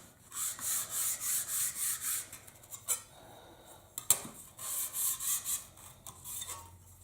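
A coarse file rasps across the edge of a steel card scraper in steady, evenly spaced strokes, close and fairly loud, broken by a pause and a few sharp knocks before the rhythmic filing resumes.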